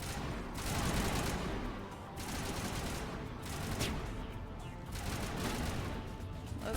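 Continuous rattling gunfire in the Mass Effect video game on Eden Prime, dense overlapping shots sustained for the whole stretch at a fairly low, distant level.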